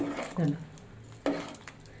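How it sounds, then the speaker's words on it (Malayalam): A spoon scrapes and stirs rice in a cooking pot for vegetable biryani, two short close strokes of metal against the pot amid quiet kitchen background. "അരിയെല്ലാം ഇട്ടിട്ടുണ്ടെങ്കിൽ നമുക്കൊന്ന് നല്ലപോലെ ഇളക്കി കൊടുക്കാം"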